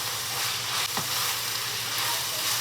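Grass-fed ground beef frying in a pan, a steady close sizzle with a bright hiss and a brief scrape of stirring partway through, no voices.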